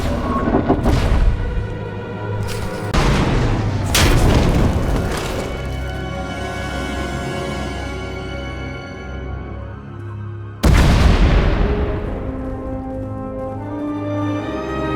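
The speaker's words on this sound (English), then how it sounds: "We heard explosions." Several heavy booming explosions in a Star Wars video game, with two big blasts at the start and another near the end, each trailing into long rumbling decay.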